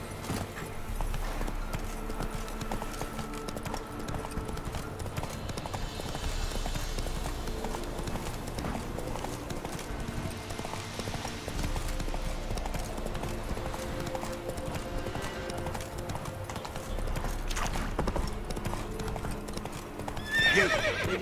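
Geralt's horse Roach galloping in The Witcher 3, a fast continuous clip-clop of hooves with a whinny, steady and fairly close over background game music.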